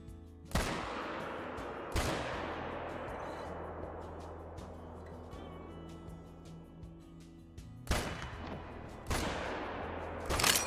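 Hunting rifle shots ring out in the Call of the Wild hunting game, four loud, sharp cracks spread over several seconds, each followed by a long echoing decay, heard alone.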